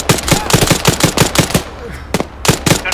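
Automatic gunfire in Arma 3 during a zombie-fighting operation, rapid bursts of closely spaced shots in a steady rhythm, loud and near, with a short pause before more bursts follow.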